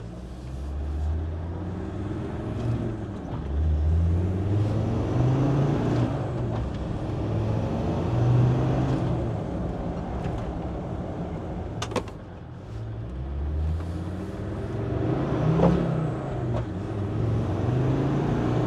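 A Land Rover Defender Td5 90 fitted with a GTB450 VNT turbo drives on the road, its diesel engine rising and falling through several gear pulls with tyre and cabin noise, heard from inside.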